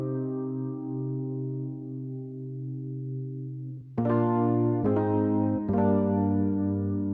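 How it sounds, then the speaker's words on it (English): Sustained Rhodes electric piano chords from a soul sample pack ring out, a held mellow chord fading slowly, then three fresh struck chords in quick succession, clear and alone. "The E-piano is the Rhodes spinning from the Elements of Soul."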